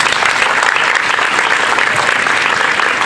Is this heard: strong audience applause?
yes